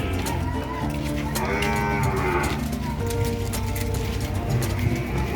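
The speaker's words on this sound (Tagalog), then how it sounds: "Kalabaw." Water buffalo (carabao) mooing at a livestock market in Urdaneta City, long low bellowing calls over a steady crowd din, with other bird-like coos mixed in.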